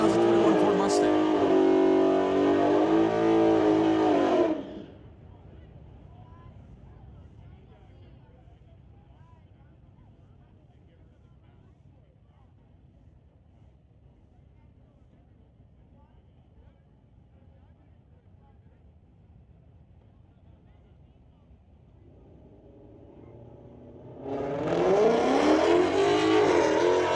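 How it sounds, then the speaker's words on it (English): Drag race between a 9-second slingshot Tesla and a GSS Auto 2021 Ford Mustang on a street-legal drag strip: a loud engine roar opens and then fades away down the track, a long quieter stretch of distant noise follows, and a loud roar returns near the end. "Bring up Ethan Amarell with the 9-second slingshot Tesla. Racing against Harj Kima with a GSS Auto 2021 Ford Mustang."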